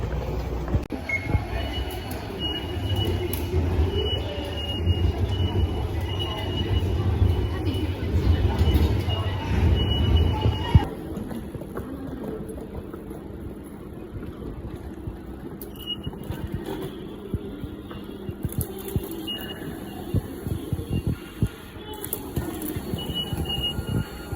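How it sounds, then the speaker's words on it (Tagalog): A train at a busy station, with a loud low rumble and wheel noise for the first ten seconds, then a quieter platform hum with scattered clanks and crowd chatter. "Sasakay na tayo ng train."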